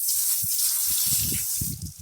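A spray of water hits agate and quartz rocks to clean them, giving a loud, continuous close hiss with low splattering thumps underneath.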